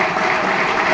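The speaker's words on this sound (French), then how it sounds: "nous allons d'abord applaudir frénétiquement pour Madame Liliane" An audience at a ceremony for Madame Liliane, honoured for helping sick children, applauds frantically in a loud, continuous wash of clapping for a brief moment.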